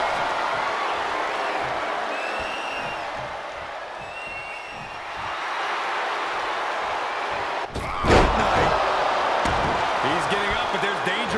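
A wrestling video game crowd cheers in a steady roar, with a sharp impact slam partway through followed by louder crowd noise, under a commentator's voice.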